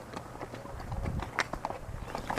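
Horses walk along a dirt trail near Ojai, their hooves clip-clopping in an uneven, close rhythm under a faint background murmur.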